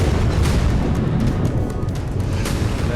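Deep, rumbling roar of an explosion in Tartus, Syria, heard from a distance as a sustained low boom with a few sharper crackling bursts over it and no voices.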